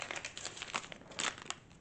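Plastic wrapping of a package of micro macramé yarn crinkles and crackles as it is opened and its label is peeled off, a steady close rustle with small sharp tears.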